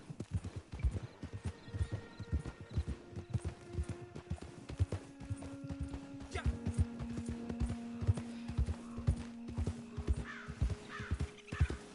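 Horse hooves clattering in the open world of Red Dead Redemption 2 Online as horses bolt away, a dense run of clip-clop beats with occasional whinnies and crow caws around them, steady and fairly close throughout.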